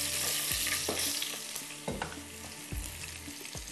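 Garlic frying in butter in a pan for a drumstick kabab, a steady sizzle broken by several sharp clinks and scrapes of a utensil stirring, close and fairly quiet, with no voices.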